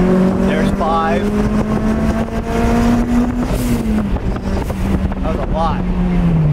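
A Toyota MR2 Spyder with a turbocharged 2ZZ-GE engine accelerating under boost at about 10 psi, a loud droning engine note climbing steadily in pitch through a pull, heard from inside the car with someone talking over it.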